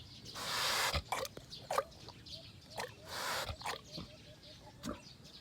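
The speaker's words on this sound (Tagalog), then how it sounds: "Lima po yung kanyang biik na buhay." Newborn piglets on a pig farm squeal and grunt in short bursts, with two louder squealing spells among softer snuffles and clicks close by.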